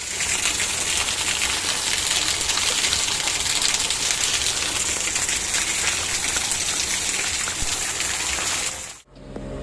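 Heavy rain falls in a dense, steady roar of water hitting surfaces, continuous and loud before cutting off abruptly near the end. No voices are heard.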